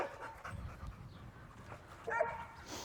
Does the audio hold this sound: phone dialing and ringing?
no